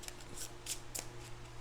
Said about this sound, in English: I'm just going to shuffle them a bit more so we can get started.